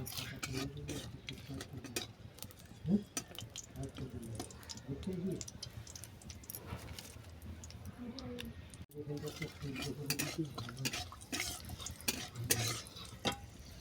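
Bay leaf and dried red chilli frying in mustard oil in a pan, a steady close sizzle with stirring scrapes and light clinks, running under a voice talking throughout.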